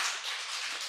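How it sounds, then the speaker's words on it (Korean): A church congregation at a Sunday worship service claps together in a brief burst of dense, steady applause. "우리 하나님 영광의 박수 돌리겠습니다."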